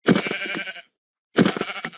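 Two loud, close sheep bleats in Minecraft, each lasting most of a second, separated by a brief silent pause.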